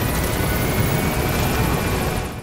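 A support helicopter in Metal Gear Solid V: The Phantom Pain roars loudly and steadily up close, its rotor noise filling the scene until it cuts off abruptly at the end.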